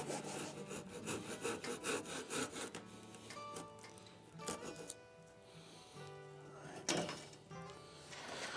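Hand saw cutting through wood while making a joiner's mallet, steady back-and-forth rasping strokes up close, with a few later strokes and scraping sounds, no speech.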